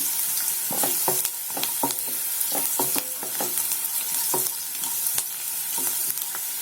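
Crushed garlic frying in oil crackles and sizzles close by, with frequent quick stirring scrapes and clicks over a constant frying hiss, no voices present.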